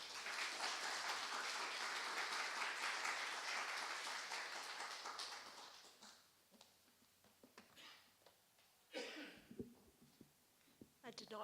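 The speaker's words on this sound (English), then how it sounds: "I just ask the audience just to welcome you with a round of applause" An audience applauds to welcome a speaker at a research presentation, a dense wash of clapping that fades over several seconds into scattered claps and room noise.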